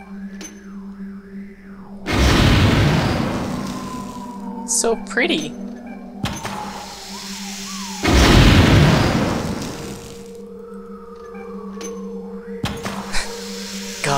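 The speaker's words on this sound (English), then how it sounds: "Fireworks displays." Fireworks display explosions in the video game Thief Gold: two long, loud booming bursts with crackling tails, separated by quieter stretches with a steady background hum, as a voice talks between and over the blasts.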